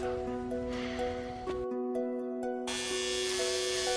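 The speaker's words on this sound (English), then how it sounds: "So just help me shave my hair." A steady electric shaver buzz runs close and loud throughout as hair is shaved off a head, briefly thinning before returning at full strength.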